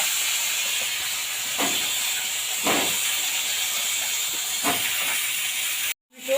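Purple yam and kohlrabi hit hot fish oil spiced with five-spice seeds, giving a steady close sizzling hiss with a few louder bursts before it cuts off abruptly.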